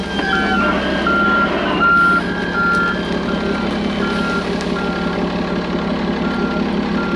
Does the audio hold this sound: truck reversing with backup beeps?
yes